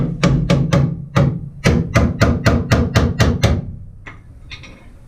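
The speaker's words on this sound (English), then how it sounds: "Take this hammer, see if we can't tap out some high spots while we're here." A hammer strikes the metal body of a 1966 Lincoln Continental in a quick series of sharp, ringing taps, about a dozen in a row, tapping out dents, followed by a couple of fainter hits.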